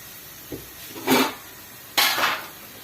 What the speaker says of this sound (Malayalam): നമുക്ക് ചിക്കൻ ഇതിലോട്ട് ഇടാം.